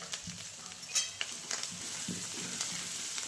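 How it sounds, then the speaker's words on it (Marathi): Soybean curry seasoned with turmeric and homemade black chilli powder being stirred in a pan: soft scraping strokes and light clinks over a quiet sizzle, close and unhurried. "व्यवस्थित हलवून घेते चांगलं"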